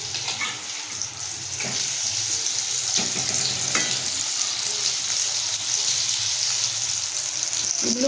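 Gokul pitha frying gently in oil over low heat in a home kitchen, a steady soft sizzle and bubbling throughout with a few faint clinks from turning, no voices.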